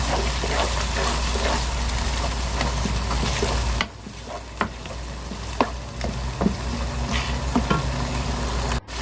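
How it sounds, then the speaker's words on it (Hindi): Minced chicken keema frying in a pan gives a loud continuous sizzle, with sporadic scraping clicks of a spatula as it is turned and stirred. "ये हमने चिकन का जो कीमा है वो ले लिया है और वो इसमें डाल के अब थोड़ी देर इसकी भुनाई करेंगे"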